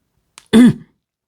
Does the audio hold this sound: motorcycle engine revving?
no